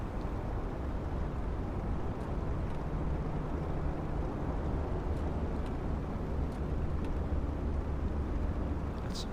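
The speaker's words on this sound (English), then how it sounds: "Still haven't figured out how you turn the engine off" An Optica light aircraft's engine runs steadily at idle after parking, a constant low droning rumble with no talk over it.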